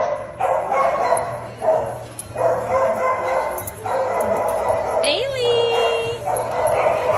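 Several dogs yip, whimper and bark in response to their names being called, close and lively, with human voices calling and talking over them.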